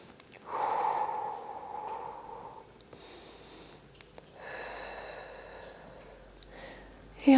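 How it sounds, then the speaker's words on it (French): Deep breaths during a stretching session: a long, audible inhale followed by slower airy exhales and sniffs, close and fairly soft, with quiet gaps in between. "Et encore une respiration profonde."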